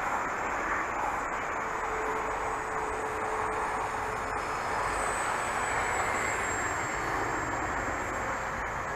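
A flying aircraft's engine drones steadily and continuously throughout, a constant broadband roar with a faint thin whine on top, fairly close and with no talking.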